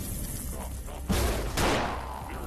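Rocket launcher firing in the VR retro shooter Compound: two close, heavy whooshing blasts in quick succession, loud and alone with no talk.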